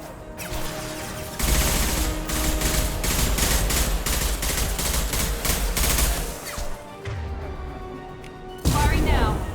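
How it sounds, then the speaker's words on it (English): Impact-shot gunfire in Mass Effect 2 on Omega at Insanity difficulty: dense, rapid bursts of shots and crashing impacts run almost without a break. There is a brief lull near the end before a loud final burst. "Firing an impact shot!"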